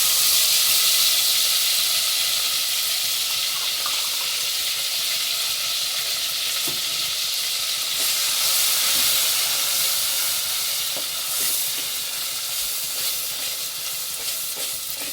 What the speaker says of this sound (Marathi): तर इथे बघा सगळा मसाला आपण तेलामध्ये परतून घेतलाय